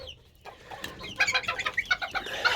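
Chicks peep in quick high chirps as they are moved into a large new cage, several small birds calling close by with soft rustling and handling noises underneath.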